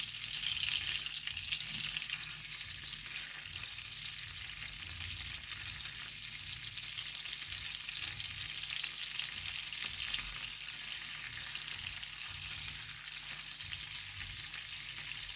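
Butter browning in a pan, a steady dense sizzle and frying crackle held at an even level throughout, close and alone with no voices.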